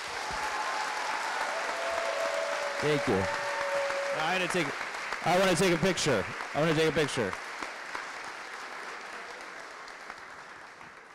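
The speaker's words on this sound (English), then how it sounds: "Can we have a round of applause?" A crowd applauds at an actor's talk event, with steady clapping running throughout while someone speaks briefly over it in the middle before the clapping tapers off.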